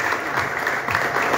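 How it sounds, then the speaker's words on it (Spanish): Crowd at a motocross press conference applauds in a dense, continuous burst of clapping, loud and even throughout the short moment. "¡Ven los aplausos, por favor!"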